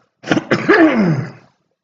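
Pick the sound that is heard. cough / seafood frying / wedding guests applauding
cough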